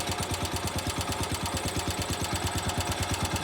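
A Cub Cadet 100 lawn tractor engine runs warm and steady at close range, its small single-cylinder exhaust a loud, rapid, even chugging with a slight knocking edge, with no voices over it.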